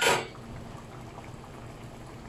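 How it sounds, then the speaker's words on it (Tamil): Prawn tamarind curry bubbles in a pot, a brief louder burst at the start fading to a soft, steady simmer up close. "குழம்பு நல்லா கொதிச்சு திக்காக இருக்குது."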